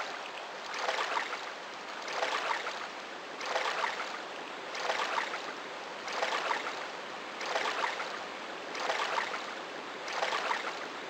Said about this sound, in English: I can hear the sound of a waterfall.